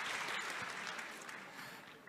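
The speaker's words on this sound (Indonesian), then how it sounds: "Kita berikan tepuk tangan pada serangan rapid fire." A crowd applauds steadily at a political event, a dense wash of clapping that holds for a couple of seconds and tapers slightly toward the end.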